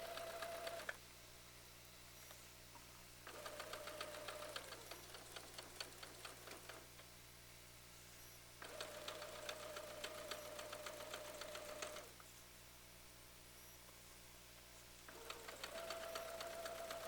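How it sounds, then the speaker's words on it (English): A sewing machine chain sews fabric pieces in repeated runs of rapid mechanical stitching, each burst lasting a few seconds and separated by brief quieter pauses, all set over a steady low hum. "We're still pretty much chain sewing, but we do have to have a leader and ender."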